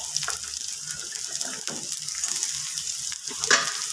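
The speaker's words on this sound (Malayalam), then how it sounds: "എണ്ണ ചൂടായിട്ടുണ്ട്. അതിലേക്ക് സവാള ഇട്ട് കൊടുക്കാം." Onions drop into hot oil and sizzle steadily, a dense, close frying hiss with small crackles and the occasional stir, and nobody speaks.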